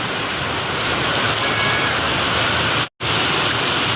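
Heavy rain pours in a loud, steady, dense hiss that fills the whole stretch, broken only by a brief near-silent cutout shortly before the end.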